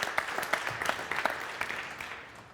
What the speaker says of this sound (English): A round of applause, please, for Charlie.